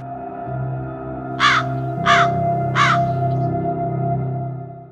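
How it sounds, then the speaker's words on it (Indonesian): A crow caws three times at a steady pace on a very quiet night, clear and fairly close over a faint low hum. "Kemudian suara burung terdengar sangat jelas di malam yang sangat hening ini."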